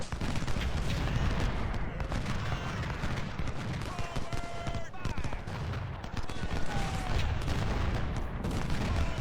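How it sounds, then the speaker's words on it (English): Steady crackle of massed rifle fire from a Civil War battle in Ultimate General: Civil War, with Lorenz rifles and flanking volleys, a dense continuous rattle of musketry throughout under a low rumbling battlefield bed. "Now they're getting some flanking fire on them"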